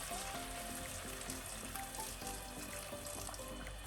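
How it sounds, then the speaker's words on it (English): Boiling hot water is poured into a pan of pork ribs for sweet and sour pork ribs, giving a soft, steady sizzle and splash of liquid hitting hot sauce, quiet and close. "we are going to add in boiling hot water"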